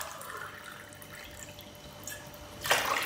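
Tap water running and pouring for börek dough, mostly a soft steady trickle with scattered drips, then a louder splashing gush near the end.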